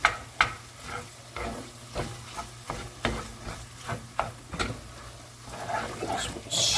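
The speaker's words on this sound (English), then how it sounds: "Just stir that around so it gets well incorporated and there's no big clumps" Beans stirred with a utensil in a cast iron pan for a tortilla bake, a run of quick scraping strokes at close range over a soft sizzle, with faint whimpers from a dog in the room.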